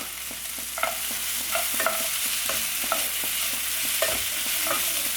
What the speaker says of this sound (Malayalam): ഒരു 5 മിനിറ്റോളം സമയം കൂടി നമുക്ക് ഒന്ന് വഴറ്റി